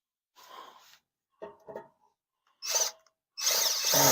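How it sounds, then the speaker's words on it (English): Short bursts of a power drill driving tech screws, starting with quiet, separate noises and ending in two louder, closer whirring runs. "Drill in, man."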